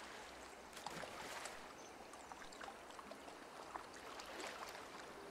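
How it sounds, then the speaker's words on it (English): Water bubbling and trickling in the fishing game Call of the Wild: The Angler, a soft, steady babble with scattered splashy pops, faint and low in level with no voices. "Oh, there's some bubbling over there."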